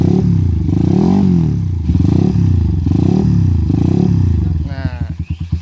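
A Satria FU motorcycle fitted with Racing Boy parts idles with a throaty, pulsing rumble, swelling and dipping in a few slow revs, then a quicker burst of throttle near the end.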